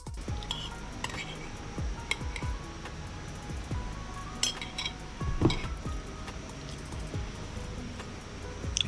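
Spoon clinking against a bowl while eating a smoothie bowl, sharp light clinks scattered at irregular intervals over a quiet outdoor background, with faint talk.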